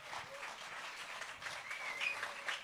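Concert audience applause at a live music event, steady clapping from a crowd heard at a distance and fairly quiet, continuing evenly for a couple of seconds.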